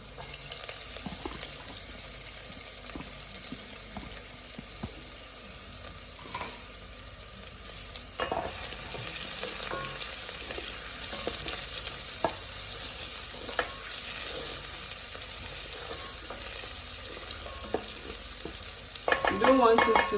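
Garlic and ginger stir-fry in green onion oil, with a steady broadband sizzle broken by scrapes and clinks of stirring that grow louder and busier toward the end, with no talking.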